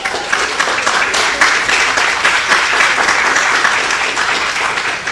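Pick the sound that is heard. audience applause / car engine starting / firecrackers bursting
audience applause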